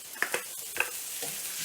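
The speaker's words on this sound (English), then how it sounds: "the mustard seeds all start to pop and sizzle" Mustard seeds crackle and pop in a hot pan, a few sharp snaps over a soft, steady sizzle.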